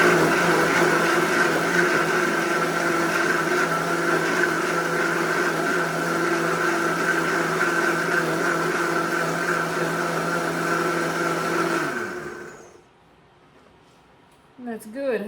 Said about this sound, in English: I'm going to put this on the blender.